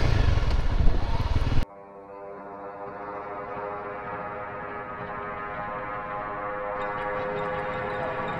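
A motorcycle rides off through a forest, its steady engine drone starting abruptly after a loud burst and holding at a moderate, even level as it pulls away, with no talk.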